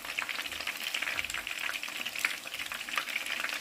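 Food sizzles and spits steadily in a hot pan during evening home cooking of Vietnamese fried dishes, a dense continuous crackle that stays close and fairly loud with no voices over it.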